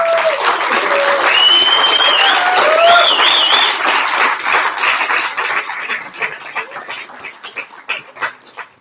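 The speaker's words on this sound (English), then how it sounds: "So please again, big applause for all the teams." A crowd claps loudly in a dense burst of applause with a few whistles, then thins into scattered claps as it dies down.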